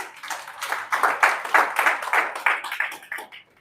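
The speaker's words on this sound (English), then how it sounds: "Please clap for him" A business talk audience claps for a speaker, a steady run of many hands applauding at moderate volume, fairly close and tapering off near the end.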